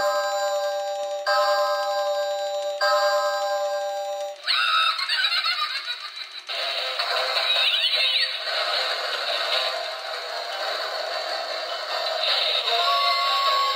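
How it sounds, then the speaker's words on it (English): A doorbell ringing at a house decorated for Halloween: repeated chiming tones at first, then brighter, busier electronic ringing that carries on loudly without talking. "let's ring the doorbell"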